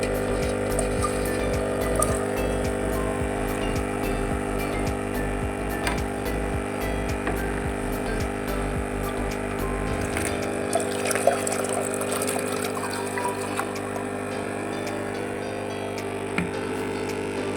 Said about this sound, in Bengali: ওই এক জার জলটাই আমি পুরো ভরবো